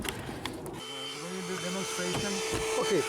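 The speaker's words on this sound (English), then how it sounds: "So now we get to vacuum some crud out of here." A vacuum cleaner whines and hums as it sucks debris out of the interior of a 2006 Cadillac SRX. The steady drone starts after a brief moment, and someone talks over it.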